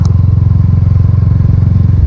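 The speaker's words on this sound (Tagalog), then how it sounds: "So madungog ninyo grabe kahilom akong tambutso na." A motorcycle fitted with a quiet stock muffler idles close by, its exhaust giving a steady, even low putter of rapid pulses throughout, with no talking.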